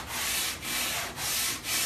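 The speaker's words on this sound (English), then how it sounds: "I've lightly sanded the whole piece." Light sanding strokes rub across a wooden furniture piece being prepped for paint, a steady broadband scratch repeating in four even back-and-forth passes, close and alone with no talking.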